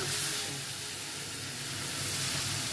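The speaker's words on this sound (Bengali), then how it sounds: "এবার মাছগুলোকে আমি ভেজে নিই সুন্দর করে" Pieces of fish frying in hot oil in a wok, a continuous dense hiss and sizzle holding steady throughout, close and fairly loud with no voices.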